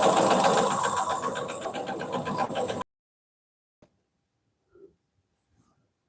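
A Consew CP206RL portable walking foot sewing machine runs loudly with a rapid, rhythmic mechanical clatter for about three seconds, then stops abruptly, leaving near silence with a few faint small noises.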